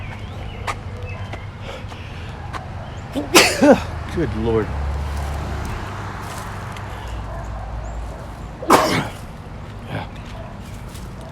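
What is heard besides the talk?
sneeze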